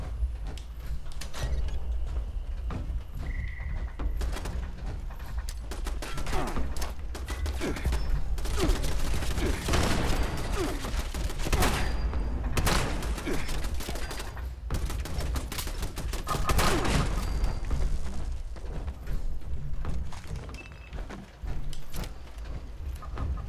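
Automated turret gunfire in the game Fallout 76, loud sustained bursts of rapid shots with dense overlapping blasts and mechanical clatter running throughout, faint voice briefly in the mix.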